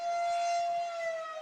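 A powerful outdoor siren wails continuously over a lacrosse field where a high school game is paused, loud and steady with a slight droop in pitch toward the end.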